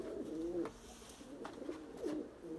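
Pigeons coo softly nearby, a few low throaty calls repeating at short intervals with faint fluttering and rustling between them.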